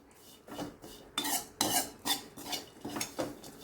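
Dry coconut stirred in a little ghee in a pan over a low flame for rice kheer, with a spatula scraping the pan in about seven quiet, rhythmic strokes and little sizzle.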